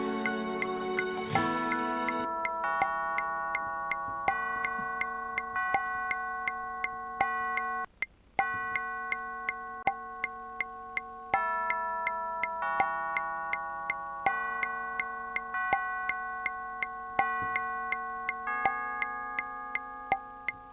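Synthesized bell tones from a Logic Pro backing track ring out in a steady sequence of clear, sustained notes roughly once per second, each decaying before the next strike, alone and fairly soft.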